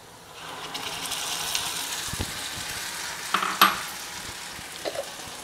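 Tomatoes sizzle in a pan for a banana-stem pulikuzhambu, a soft steady frying hiss with a few light scrapes and clinks as a spoon stirs them.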